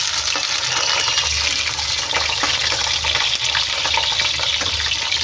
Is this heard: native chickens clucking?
no